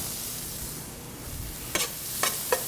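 Ginger and garlic sautéing in a pan for General Tso's chicken, a gentle continuous sizzle with three short scraping stirs toward the end, no voices.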